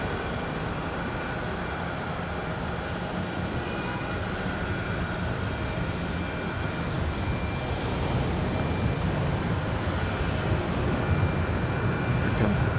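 An Endeavor Air airliner from LaGuardia arrives at Raleigh-Durham airport on a windy day, its engines a steady distant roar under wind rumble, with a voice speaking briefly over it.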